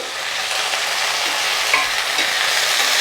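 Fresh coriander leaves sautéed in a pan for chutney, a loud close sizzle with rustling stir strokes growing slightly stronger over the few seconds.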